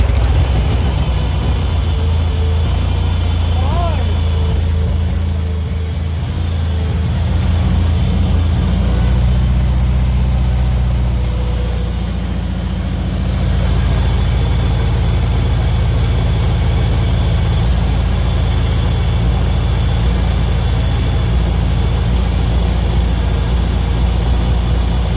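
A Turner Ranger tractor engine cranks, catches and settles into a loud, steady low rumble that runs close and continuous for the whole stretch, with no talking.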